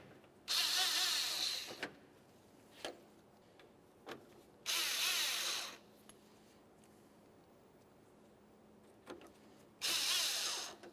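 A power driver spins screws into the mounting hardware of a 1994–1997 Honda Accord front bumper cover in three close, loud whirring bursts of about a second each, separated by quiet gaps with faint clicks.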